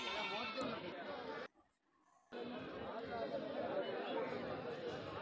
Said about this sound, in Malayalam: രണ്ട് മൂന്ന് ആടുകൾ കൊണ്ടുപോകുന്നുണ്ട് വിൽപ്പനയ്ക്ക് കൊണ്ടുവന്നതാണ്